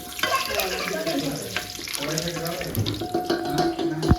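Whole spices fry in oil in a pressure cooker while a water tap runs nearby, a steady close sizzle mixed with splashing as voices talk over it.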